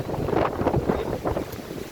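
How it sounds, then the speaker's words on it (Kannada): Strong wind buffets the microphone in a continuous rumbling rush, rising and falling in quick gusts close up. "ಗಾಳಿ ತುಂಬ ಹೊಡಿತಾ ಇದೆ"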